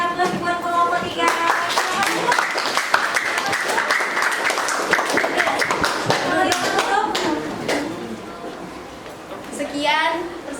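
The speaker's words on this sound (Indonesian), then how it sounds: "kasih aplaus buat kelompok 3" A school audience claps for a group presentation with dense, continuous applause. Children's voices chatter underneath throughout.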